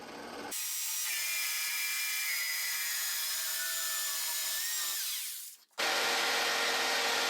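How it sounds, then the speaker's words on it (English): A power drill bores holes in workbench wood with a high whining hum that sags under load for several seconds, then winds down to a stop and cuts off. "I then drilled a couple of holes so that the jigsaw will have a place to turn around."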